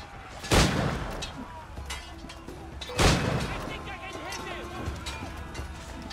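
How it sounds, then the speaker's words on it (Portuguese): Two sharp gunshots in the pirate video game Assassin's Creed IV: Black Flag during a naval fort fight, a few seconds apart, each punching above quieter game ambience. "o tiro pegou também"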